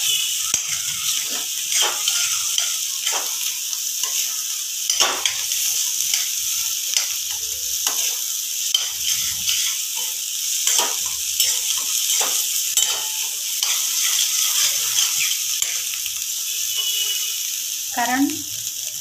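Masala-stuffed bitter gourd (karela) sizzles steadily in a pan while being turned, with repeated short scraping stir strokes spaced through the frying.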